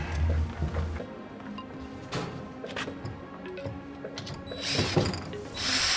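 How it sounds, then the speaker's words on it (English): A drill bores pocket holes into wooden leg braces for a farmhouse bar table, giving short bursts of whirring and ratcheting mechanical noise with clicks and pauses between them, fairly faint and with no talk over it. "Now I'm making the pocket holes on the braces of the legs."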